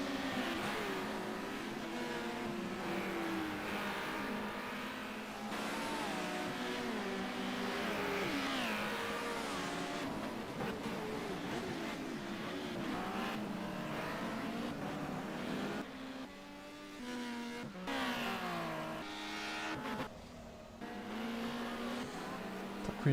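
Touring race cars from the TCM series at the Helsinki Thunder circuit in Finland roar and rev continuously, engines rising and falling as a pack drives past, loud and sustained without audible talk.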